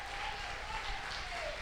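Steady applause from a church congregation fills the short moment, a dense even wash of clapping with a faint tone drifting underneath.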